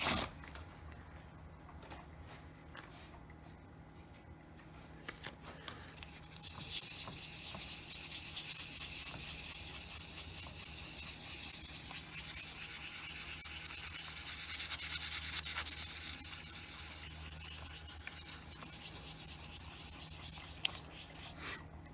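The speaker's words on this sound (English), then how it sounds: "My next and last grit that I happen to have is 1500, and I'm going to use that wet." Plastic ATV dash being wet sanded with 1500 grit sandpaper, a quiet continuous rubbing hiss that starts after a few seconds of near silence and keeps a steady, faint texture throughout, no voices.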